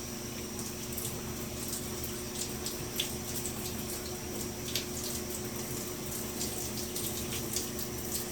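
Water runs steadily from a tap as shampoo is rinsed out of fine hair. The faint, even hiss carries a few soft splashes and is heard alone, with no talk.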